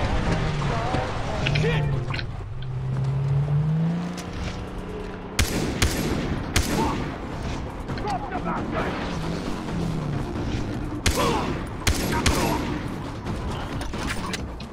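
Gunfire in the video game Far Cry 3 cracks in sharp, scattered volleys over busy game sounds and a low rumble. A voice talks throughout the shooting.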